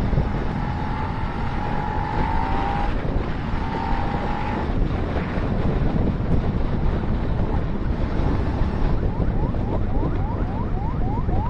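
A Suzuki SV650 motorcycle rides along a road, heavy wind buffeting roars steadily over a low engine hum, with faint rising whines near the end and no talk.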